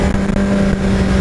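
A Honda CBR 1000 RR Fireblade sport motorcycle on the Interlagos circuit gives a loud, close, steady engine drone with a strong low hum, held at a constant pitch throughout.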